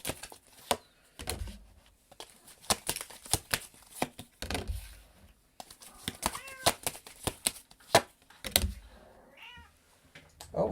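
A cat meows a few times indoors, short rising cries amid clicks and sharp handling taps nearby, with some soft background noise.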